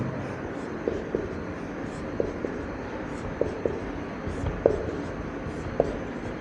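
Marker or chalk taps and scratches on a classroom board as numbers and dashes are written, several short distinct strokes spaced irregularly over a low steady room hum.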